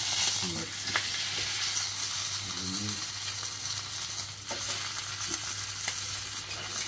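Steak frying in a hot pan: a steady, close hiss and crackle of sizzling fat that runs throughout, with no talking.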